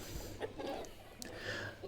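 Faint, scattered clucks from a sturdy black game rooster kept in a separate breeding pen, short soft calls over a steady low background hum.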